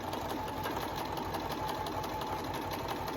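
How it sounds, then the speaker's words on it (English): A sewing machine stitches a continuous binding strip, running as a steady, close, fast mechanical whirr with no pauses. "Then I'll put my foot down and start to sew."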